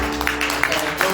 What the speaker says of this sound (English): Now, shall we clap your hands to the Lord?